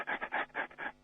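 A human voice imitates a small dog's panting breath with quick, rhythmic huffs, about six short bursts close to the microphone and heard on their own.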